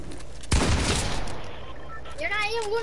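A sudden loud gunshot burst in a video game, followed by a decaying rumble of reports and debris; a person's voice comes in near the end, rising and falling over the fading noise.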